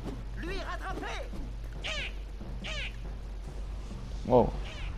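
A cat meows several times, short bright calls with a louder one near the end, heard inside the video game Legend of Kay Anniversary on PS4, over steady game background sound.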